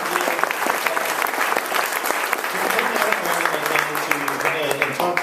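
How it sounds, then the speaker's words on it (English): An audience at a ColoradoCare Amendment 69 debate in Englewood claps for the panelists, with dense, steady applause throughout and some voices mixed in. "I want us all to do one more round of applause to thank our panelists"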